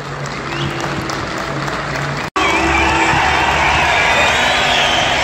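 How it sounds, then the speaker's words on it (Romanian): Stadium crowd applauding as FCU Craiova players walk onto the pitch for a playoff match against Sepsi, a loud, dense, continuous roar of clapping and cheering that cuts out briefly, then returns even fuller. "Aplaudați acolo la tribuna a doua."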